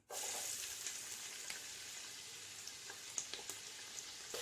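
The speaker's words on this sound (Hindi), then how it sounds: "तेल गरम हो चुका है, इसमें एक बड़े साइज की कटी हुई प्याज डाल देते हैं।" Steady, hissing sizzle of large chopped onions frying in hot oil over a high flame, with scattered small pops and crackles, close and continuous.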